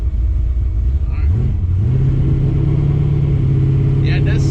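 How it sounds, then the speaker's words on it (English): An LS-swapped Chevy C10 pickup with an X-pipe exhaust rumbles loud and close, its low drone climbing as the engine revs and then holding steady, while voices talk over it. "I think it's all exhaust coming around the X-pipe"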